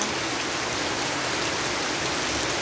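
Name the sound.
heavy rain falling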